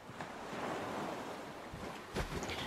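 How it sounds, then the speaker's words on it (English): Ocean waves in the survival game Salt, open sea near a shoreline, with a steady broadband wash of surf and wind that swells into a louder crash near the end, heard alone without talk. "there's big waves out here too, in the middle of the ocean"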